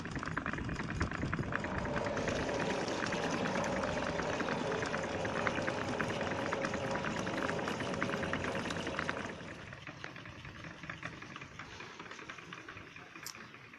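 A homemade solar-powered DC water pump runs steadily, pushing water up to a tank ten feet high, a continuous rushing, gurgling whir that drops to a quieter flow near the end.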